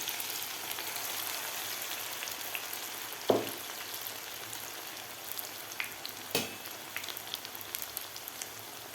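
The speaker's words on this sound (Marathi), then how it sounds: "आता यामधलं थोडं थोडं मिश्रण घेऊन आपल्याला भजी सोडायचे आहेत" Steady, fine crackling of corn fritters deep frying in oil in a kadai, with a couple of sharper pops and a soft clink standing out from the continuous sizzle.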